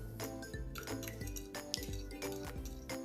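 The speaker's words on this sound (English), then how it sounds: "Now mix it really well." Utensils clink and scrape against a bowl while a vegan gnocchi scramble mixture with powdered seasoning is stirred, giving repeated close, bright clinks in an uneven rhythm with short gaps between strokes.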